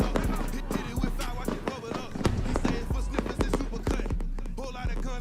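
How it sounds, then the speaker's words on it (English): A fireworks display on Keaka Drive goes off out of control in a rapid, dense string of loud cracks and booms, with overlapping bangs throughout and a voice speaking over them. "This drone video shows the moments the fireworks display at Keaka Drive began booming out of control"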